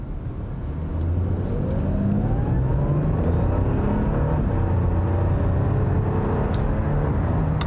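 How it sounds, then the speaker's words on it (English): Audi A6 Allroad wagon with a turbocharged 3.0-litre V6 and 48-volt mild hybrid system, heard from inside while cruising: a steady low engine and road rumble with a smooth hum that swells slightly early on, no talk. "This is just such a serene car that I love driving."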